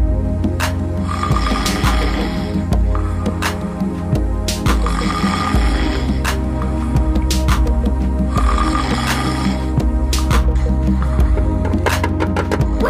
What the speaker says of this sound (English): Would you quit snoring already?